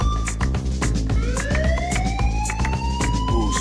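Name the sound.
siren sound effect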